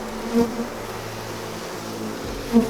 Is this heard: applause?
no